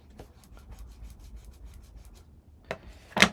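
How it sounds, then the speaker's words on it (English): Glued, folded paper tab on a handmade box being burnished: soft, steady rubbing strokes run close and quiet throughout, ending with a couple of sharper, louder scuffs. "I'm going to add glue to this bottom tab and fold it and burnish it."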